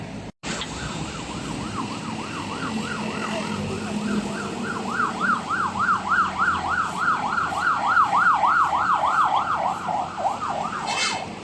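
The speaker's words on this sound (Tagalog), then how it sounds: "May dumaang ambulansya" An ambulance siren wails in a steady up-and-down pattern, growing louder as it passes, with road traffic rumbling underneath.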